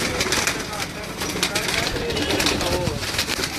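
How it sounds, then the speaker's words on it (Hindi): Pigeons cooing softly nearby, low rolling coos over a constant background hum, with people talking under it. "कबूतर ले आओ फड़ के।"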